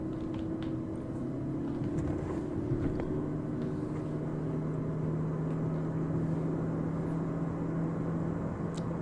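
A 2020 Proton Iriz 1.6 with a CVT accelerates toward top speed, its engine a steady, smooth droning hum inside the cabin with a level tone and no gear-shift breaks, heard without talk.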